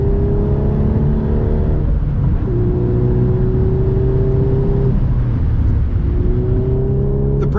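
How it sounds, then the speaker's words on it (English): The engine of a Mark 8 Volkswagen Golf R is wound up hard from inside the cabin, a steady droning rise in pitch through several long pulls with brief dips between gears, loud and constant. "really winding it up, and it just doesn't feel like it pulls as hard"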